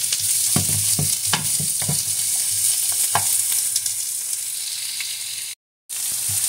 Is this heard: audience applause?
no